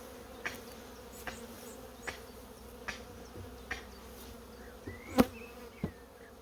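Honeybees buzz faintly around an open hive on a Dartmoor farm, a soft continuous drone broken by light wooden taps and knocks roughly every second, with no talking.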